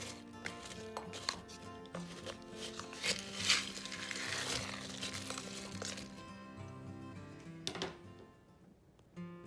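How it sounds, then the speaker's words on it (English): A spoon stirs peanuts and white chocolate pieces in a crock pot, producing soft scraping and rattling taps at an irregular pace, fairly quiet and close, with a few sharper knocks against the pot. "After you've turned on your crock pot, go ahead and stir up everything just a little bit."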